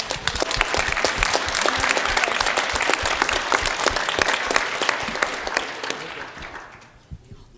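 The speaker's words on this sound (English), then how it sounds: "can we get a round of applause for the AV crew?" An audience at a 2018 Angular developer conference bursts into sustained applause, dense close clapping filling the hall before tapering off to a few last claps near the end.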